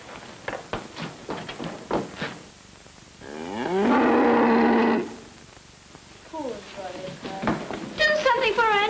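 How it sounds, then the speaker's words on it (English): A cow lying in her stall lets out a long, low moo between stretches of people talking nearby; the moo stands out loud in the middle. "She's lying in her stall moaning and mooing."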